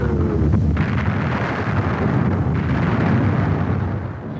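Incoming artillery rounds exploding at the besieged Khe Sanh Marine base during the Vietnam War make a loud, continuous, rumbling roar, with dense blasts merging into one heavy wall of noise that eases slightly at the end.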